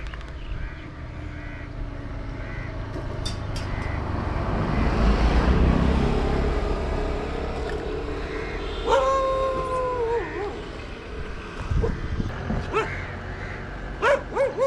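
Several dogs bark, yip and howl outside near a train station at night, some close and some distant, with traffic noise and an engine in the background.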